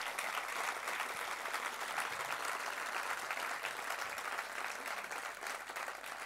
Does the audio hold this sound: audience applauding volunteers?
yes